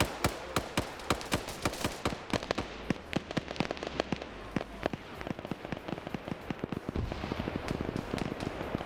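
Rapid bursts of gunfire in a trench-warfare close-quarters combat game, sharp shots fired in quick pairs and volleys throughout, dense and loud with continuous crackle under them.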